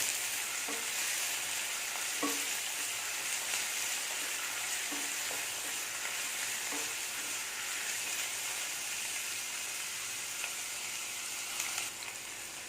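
Ginger and onion sauté lightly in a pan, a soft continuous sizzle with a few faint scraping strokes of a spatula at intervals, fairly quiet and with no voices.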